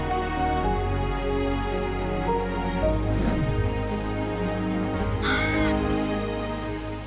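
A raven caws once or twice in the open while a man drinks coffee outdoors, a short harsh call standing out over steady background noise.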